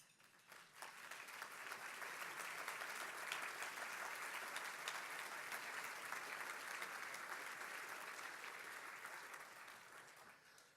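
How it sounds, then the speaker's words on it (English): A roomful of attendees at a company annual meeting applauds the Fargo team: thick, continuous clapping that builds quickly, holds steady for several seconds, then gradually tapers off. "would you please give them all a round of applause?"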